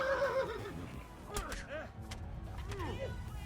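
A video game horse whinnies briefly and faintly, with soft thuds and a muffled voice in the background.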